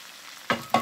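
Two bursts of loud sizzling a moment apart as liver is dropped into hot oil with fried onions in a frying pan, over a faint background hiss.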